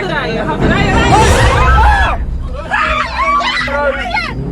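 Tourists in a safari vehicle scream and shriek in terror while an elephant attacks. The frantic cries come in two loud bursts and are mixed with panicked talking.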